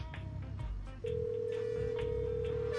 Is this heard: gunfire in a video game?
no